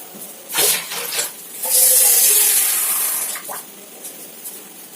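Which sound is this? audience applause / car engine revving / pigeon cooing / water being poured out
water being poured out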